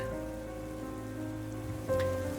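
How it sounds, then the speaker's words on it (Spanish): Steady rain falls on a surface as an even, continuous patter under a low tonal hum, with no voices. "La lluvia no paraba desde hace varios días."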